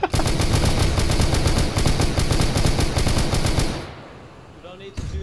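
A squad opens fire in a video game with sustained, loud automatic gunfire. Rapid bursts from several guns overlap for nearly four seconds, then stop abruptly into near quiet before a faint final noise.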